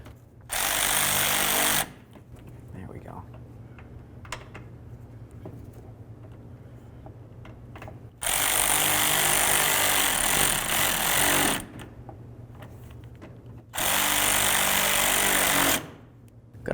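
Power tool driving in the fog light mounting screws on a 2006–2008 Dodge Charger. Three loud, harsh buzzing bursts of about two to four seconds each are heard close, with quieter gaps and faint handling noises between them.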